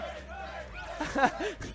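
Spectators at a Super Smash Bros. tournament losers semifinal cheer and shout in a roar at moderate distance, with voices rising in a swell partway through.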